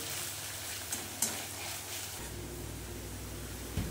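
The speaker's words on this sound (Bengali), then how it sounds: "এবার পেঁয়াজটাকে বন্ধুরা ভালো করে লাল লাল করে ভেজে নেব" Chopped onions frying in a pan for chicken curry, a quiet steady sizzle broken by a few scraping stirs and taps, close up with no speech.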